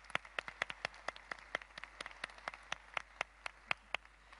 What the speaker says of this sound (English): could we please give a round of applause to the translators who are up there in even hotter little boxes working